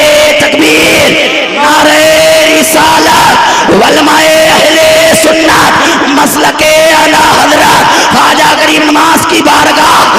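A large crowd at a Sunni religious gathering in Mumbai bellows slogan responses in unison, loud repeated shouted chants with brief gaps between them, close and dense throughout.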